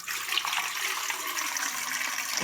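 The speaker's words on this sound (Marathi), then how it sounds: "आता इडली पात्रात पाणी ओतून घ्यायचंय." Water poured steadily into an idli steamer pot, a continuous bright splashing hiss of moderate loudness lasting the whole moment without pause.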